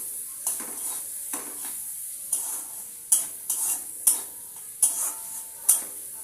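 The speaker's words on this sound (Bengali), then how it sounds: "পেঁয়াজটা ভেজে নেব আর একটু নাড়িয়ে চাড়িয়ে।" Onions frying in a pan with salt, giving a steady sizzle broken by a series of sharp scraping stirs roughly every second, close and clear, with no one talking.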